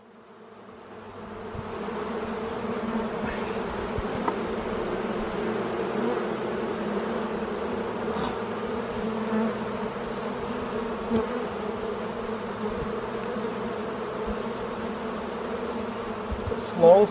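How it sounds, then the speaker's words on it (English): Dense swarm of honeybees buzzing steadily around an opened beehive during a frame inspection, a continuous close hum that swells in briefly and holds at even loudness throughout, with no talk. "That's a lots of bees compared from the first times, eh?"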